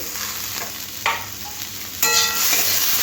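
Chopped green chillies, peas, coriander leaves and tomato fry together in a pan with a steady broadband sizzle, and the hiss jumps louder twice as the pan is stirred or fresh ingredients land in it.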